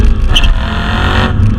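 A BMW M3 straight-six fitted with a new aftermarket exhaust gives a loud, close rev with a deep rumble and a rising whir in one short burst.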